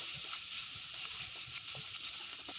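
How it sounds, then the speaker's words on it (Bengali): Chopped cauliflower frying in a pan for pasta, a steady soft sizzle with a few faint stirring scrapes, fairly quiet and continuous with no talking. "তারপর এটাকে একটু ভেজে নেব।"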